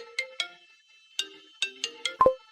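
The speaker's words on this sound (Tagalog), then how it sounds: "Tumunog ang telepono." A telephone ringtone plays alone: a short run of bright, repeated electronic chirps in an uneven melodic pattern, moderately quiet and indoors.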